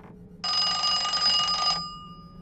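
A clock rings in the PC hidden-object game I Spy: Mystery, one steady bright bell-like burst lasting just over a second, loud and alone over a faint hum.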